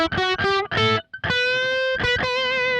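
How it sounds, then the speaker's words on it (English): Electric guitar, a Brian May Red Special style setup, played through an original Rangemaster treble booster pedal for a Queen-like tone. Bright, cutting overdriven notes and a short melodic phrase ring out close and loud, with a brief pause midway. "This is a real Rangemaster, so this is very expensive."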